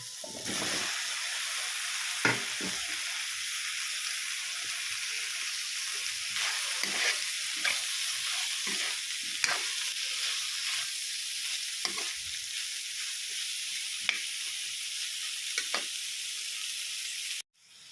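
Continuous sizzling and frying of eggplant, string beans and okra in a pan for pinakbet, with occasional stirring clatters and scrapes, steady and close throughout, no voices.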